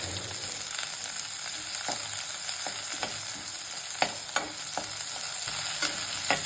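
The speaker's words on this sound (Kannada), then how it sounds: "ಮೊದಲಿಗೆ ಆನಿಯನ್ ಮತ್ತು ಗಾರ್ಲಿಕ್ನ ಡೀಪ್ ಫ್ರೈ ಮಾಡ್ಕೋಬೇಕು" Onion and garlic deep frying in oil for ema datshi give off a steady close sizzle, broken by a series of light scraping and clicking stirs at an irregular pace.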